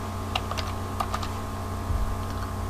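Short bursts of clicking keys on a computer keyboard, a handful of quick taps spaced unevenly, close and fairly quiet over a faint steady hum.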